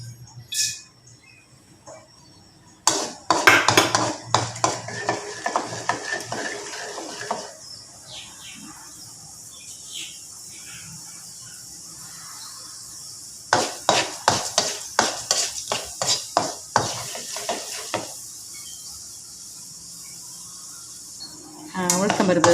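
Urad dal frying in a pan for agathi keerai sothi, stirred with a metal spoon: bursts of sharp scraping clinks against the pan between quieter stretches of soft sizzle, close and fairly loud.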